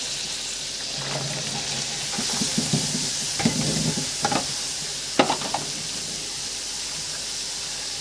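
Potatoes and cauliflower tossed into frying spices for aloo gobhi hiss and sizzle in the pan, broken by several scraping stirs and clacks of a spoon against the metal, close and moderately loud, with no talking.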